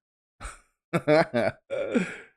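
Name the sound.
yawn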